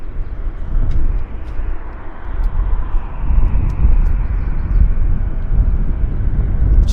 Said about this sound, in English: We've got an American Airlines taxiing out